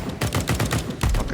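Rapid bursts of sniper gunfire in a multiplayer shooter on a rainy night Italy map, several loud close shots in quick succession with no talking.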